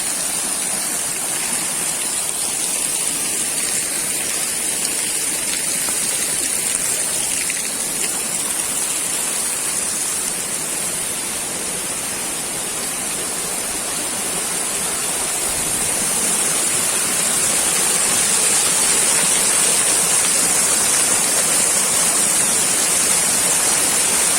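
Waterfall in Aladağlar National Park, Kayseri, Turkey, roars as a steady, loud, broadband rush of falling water that holds constant throughout, with no voices over it.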